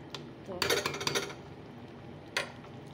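Dishes being washed, a few clattering knocks of metal pots and utensils in bursts, including a cluster of rattling clinks followed by a single clank, nearby and fairly quiet.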